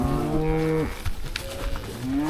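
Cattle on a ranch, including a cow waiting to calve, give a long, loud, close moo. A quieter second call follows and rises at the end, with no talking.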